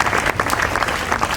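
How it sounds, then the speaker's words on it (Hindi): An audience bursts into vigorous applause for a child during a storytelling session, a brief, loud wash of many hands clapping at once. "जोरदार तालियां बजाओ उस बच्चे की"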